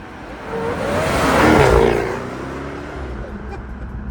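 A Jaguar F-Type R P450 sports car accelerates, its engine note rising to a loud peak and then easing back to a steady cruising hum.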